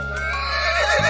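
A horse whinnies in a 3D animal slide video game, one loud, wavering neigh over a steady synthetic music bed, close and clear.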